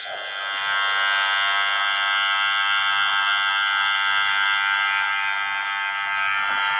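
Electric hair clippers buzz steadily and loudly with one guard on and the lever opened all the way, cutting a fauxhawk with a skin taper, a continuous close drone with no talk.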